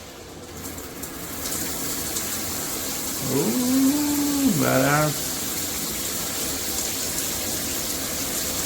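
Jcrob 12-inch rain shower head spraying a steady, broad hiss of water throughout, with a person talking briefly partway through over the constant flow.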